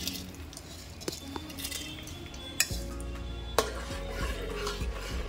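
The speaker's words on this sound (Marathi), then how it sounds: "आता हा दिल्ली राईस तांदूळ जो आपण घेतलेला आहे तो आता घालूया।" Soaked Delhi rice being tipped into boiling water for mutton biryani, with scattered metal clinks of a utensil against the pot and a heavier splash midway, followed by a bubbling rumble, no voices.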